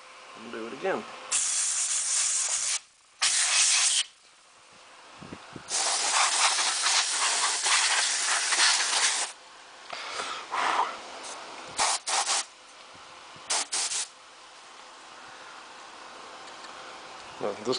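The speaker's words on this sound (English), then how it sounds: "So that's how you spray out your G73." A compressed air can sprays into the vents of an Asus G73 laptop in a series of loud hissing bursts, some long and some short, separated by brief quiet gaps.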